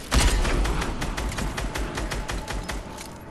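Gunfire in the Fortnite video game, aimed at a spaceship, comes as a rapid, close burst of repeated shots with a rattling rhythm that fades slightly toward the end.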